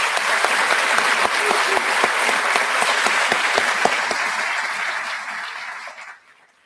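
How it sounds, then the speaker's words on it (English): Audience at a high school graduation ceremony giving a full, steady round of applause with a few distinct sharp claps, gradually tapering and ending abruptly near the close. "Please give these people a round of applause"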